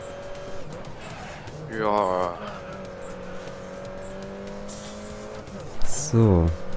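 Race car cornering in the Grid Autosport video game, Mini Cup party mode, with a steady engine drone that rises twice into brief tire squeals around two and six seconds, heard alongside continuous background talk.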